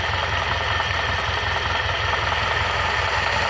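A car engine, just started with its valve mechanism exposed for oil inspection, idles at a steady close-up rumble with a fine mechanical ticking and even vibration throughout, no voices.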